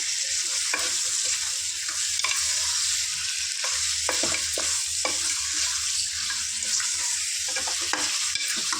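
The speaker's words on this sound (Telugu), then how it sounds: "ఇందులో ఒక వన్ కేజీ మటన్ వేసుకుంటాను చక్కగా క్లీన్ చేసుకున్న ఫ్రెండ్స్ మటన్ దీన్ని మంచిగా ఫ్రై చేసుకుందాం" A kilo of cleaned mutton fries in oil with ginger garlic paste in a pot, giving a loud, continuous close sizzle broken by repeated scraping stirs throughout.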